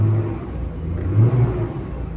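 A Mercedes M104 six-cylinder engine on new engine mounts idles with a low rumbling drone and a brief swell in revs midway, heard up close and without speech.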